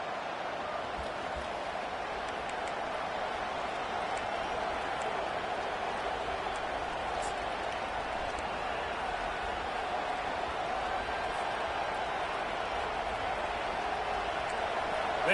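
Stadium crowd at a South Carolina Gamecocks home football game against NC State, a steady distant roar of cheering and noise that holds evenly throughout with no clear breaks.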